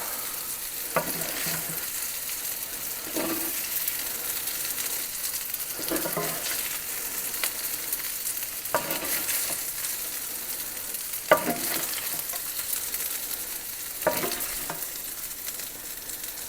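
Homemade gnocchi searing in a pan, with a continuous close sizzle broken by several sharp scraping stirs and utensil clacks spaced a few seconds apart, no talking.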